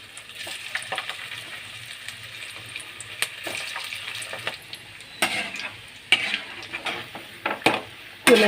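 Onion fritters (bajji) fry in hot oil with a soft steady sizzle, broken by occasional stirring clinks and scrapes of a utensil against the pan, growing louder toward the end.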